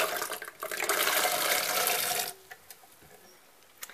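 Loose corn kernels pour into a blender in a dense rushing stream for about two seconds, then settle into a few scattered clicks and taps.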